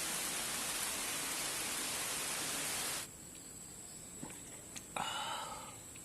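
Light rain falls at a night campsite, a dense steady hiss that cuts off abruptly midway, leaving a quieter background with a few faint drops and small knocks.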